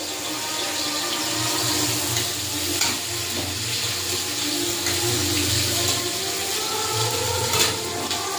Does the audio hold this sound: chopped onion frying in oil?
yes